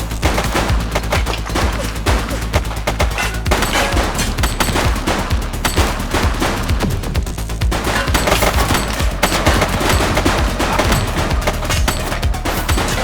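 Rapid, dense gunfire in the 1980s police video game The Precinct, continuous bursts like a machine gun and fusillade, loud and close for the whole stretch.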